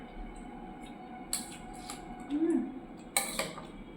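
A metal spoon clinks against a bowl while aloo kabli is served, two sharp bright clatters spaced apart over a quiet room with a low background hum and faint murmuring.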